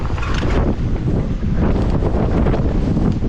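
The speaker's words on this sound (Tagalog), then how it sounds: "Windy!" Strong wind hammers straight into the microphone and roars in a loud, constant low rumble for the whole stretch, with nothing else audible.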